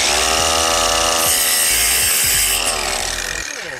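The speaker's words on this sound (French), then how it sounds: "On va en pré-couper d'avance à la scie sauteuse des circulaires." A jigsaw pre-cuts circular pieces from wood in an outdoor garden DIY build, a loud buzzing rasp with a steady whine that holds for about three seconds and then tapers as the cut finishes.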